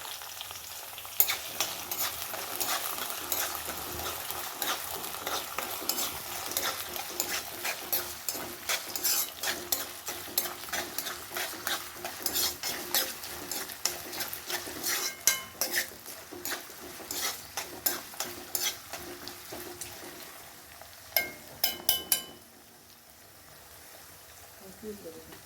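Curry leaves, ginger and garlic sautéing in a pan, with a continuous close sizzle and many sharp metallic clinks and scrapes of a spoon stirring against the pan, a few louder knocks near the end before it quiets.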